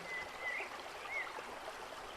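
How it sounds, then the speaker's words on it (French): A river flowing through dense vegetation gives a soft, steady wash of running water, faint and distant, with a few brief high bird chirps above it. "bercé par le bruit de l'eau qui coule"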